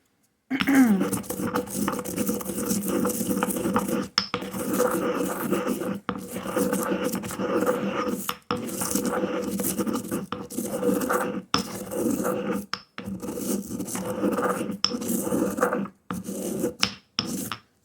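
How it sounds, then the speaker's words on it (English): Bay leaves and salt are ground by hand in long, continuous rasping scrapes, close and fairly loud, broken by brief pauses between strokes. "The bay leaves are not wanting to grind very well."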